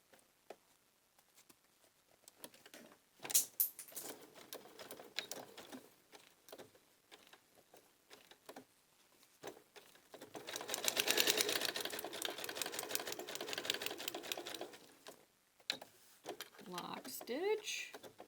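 Sewing machine stitching a Y seam on quilt pieces, with scattered handling clicks early and then a steady close buzzing run of stitches, stopping and starting again, with soft talk in between.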